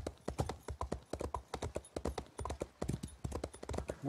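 A horse's hooves clip-clop at a steady brisk rhythm near the stables in The Elder Scrolls Online, close and continuous with no voices over them.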